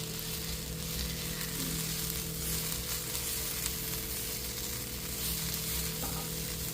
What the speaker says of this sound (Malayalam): നമ്മൾ നേരത്തെ മിക്സ് ചെയ്ത മസാലകളെല്ലാം അതിലേക്ക് ആഡ് ചെയ്ത് കൊടുക്കാം. നന്നായിട്ട് ആഡ് ചെയ്തിട്ട് എല്ലാം കൂടെ നന്നായിട്ടൊന്ന് സോട്ട് ചെയ്ത് മിക്സ് ചെയ്തെടുക്കാം